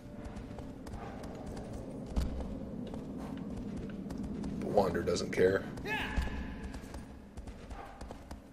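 A horse gallops in the video game Shadow of the Colossus, a steady run of hoofbeats under someone talking, with a louder swell of sound midway.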